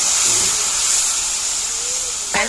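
Steady hiss of spices, garlic and ginger sizzling in hot oil for a tadka, loud and continuous, ending with a short clatter.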